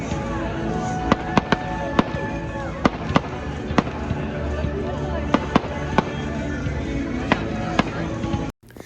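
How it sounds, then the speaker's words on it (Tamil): Fireworks burst at a last-day-of-school celebration, a series of sharp cracks and pops at irregular intervals over a steady background hum, moderately distant. "fire works போட்டாங்கப்பா"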